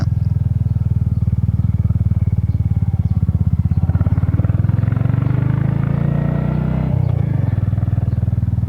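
A Royal Enfield Hunter motorcycle under way on a road, its engine thrumming steadily with a low, even pulse and rising slightly as it pulls, then easing off near the end; wind rumble underneath and no talk.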